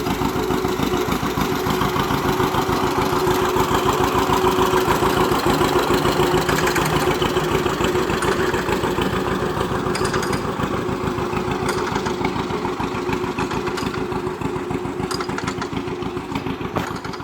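A John Deere Model H tractor drives down a road, its engine chugging loudly with a steady, rapid thumping beat throughout, close to the listener and without talk.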